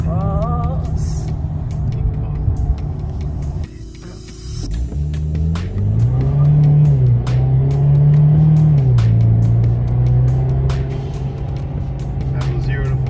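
A 2022 Ford Maverick fitted with lowering springs pulls away and accelerates hard from a standstill up to 45 mph, the engine note rising and shifting through gears, loud and steady from inside the cab, with occasional talk.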